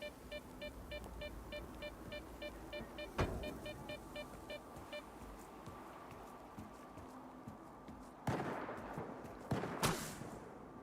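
Gunfire in S.T.A.L.K.E.R. 2 aimed at the player: a sharp crack early on, then two louder bursts of shots near the end over a quiet ambient hum and faint beeping.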